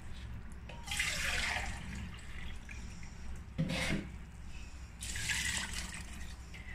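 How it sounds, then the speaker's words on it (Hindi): Water poured into a pot holding two kilograms of beef, heard as a few soft, close splashing gushes separated by pauses, fairly quiet overall. "2 लीटर ही इसके अंदर पानी डालूंगी मैं"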